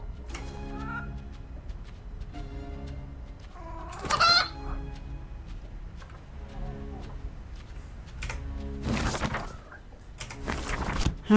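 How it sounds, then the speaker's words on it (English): A chicken clucks close by in short repeated bursts, with a few louder squawks among lower scattered clucks, against faint background noise. "Alright, I got me a chicken."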